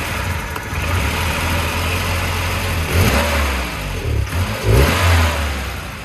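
A 1984 Volvo 240 engine runs steadily, then is blipped with the throttle twice, its note rising and falling in two short revving surges over the loud, continuous engine rumble, with no talking.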